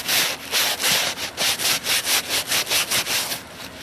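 A leather strop is wiped down with a cloth to remove excess oil, giving about a dozen quick rhythmic rubbing strokes, close and fairly loud, with no talking.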